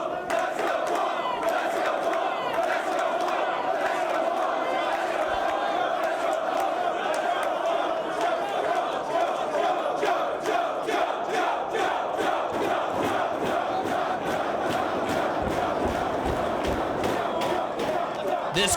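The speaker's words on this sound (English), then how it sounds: "This crowd in Dayton showing their support for both men." A wrestling arena crowd in Dayton cheers and chants during a Samoa Joe versus CM Punk match, a dense, sustained roar with rhythmic clapping and shouting, while commentators talk over it.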